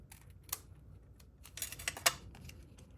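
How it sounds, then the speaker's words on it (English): Paper card being trimmed with scissors for a stamping craft: a few crisp, brief snips and rustles, close and quiet, spaced across a hushed background. "I need to trim just a little bit more from this side"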